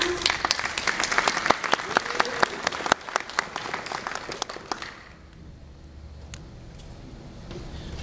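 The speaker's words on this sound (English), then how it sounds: "Big applause for them." Big applause from a conference audience at a mobile usability talk, many sharp claps close in for about five seconds, then fading out to quiet room tone with a few stray claps.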